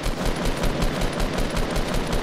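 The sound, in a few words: gunfire in Fortnite video game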